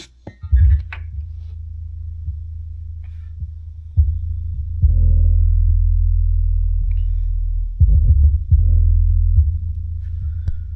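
Deep bass from an 8-inch under-seat subwoofer throbs in thumping low pulses, swelling into long sustained booming notes, loud and heavy with little else audible.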